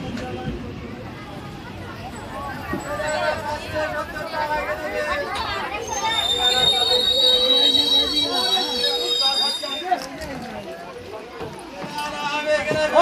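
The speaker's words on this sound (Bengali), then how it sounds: "ট্রেনটা এই যে ঢুকে গেছে।" A train pulls into Batna railway station with a low rumble and rattling cars. High wheel squeals rise through the middle, over steady crowd chatter and people talking nearby on the platform.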